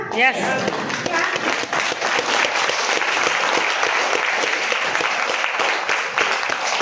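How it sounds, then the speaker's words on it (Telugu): An audience claps hands together in a continuous, dense burst of applause that carries on steadily from start to finish, loud and close, with some voices mixed in. "అందరికి క్లాప్స్ కొట్టడం వచ్చా?"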